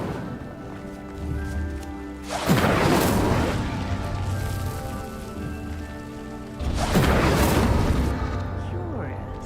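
Incendio fire spell cast twice in the Hogwarts Legacy video game: each cast is a loud whooshing, crackling burst of flame that swells and fades over a couple of seconds, set against a steady ambient game background.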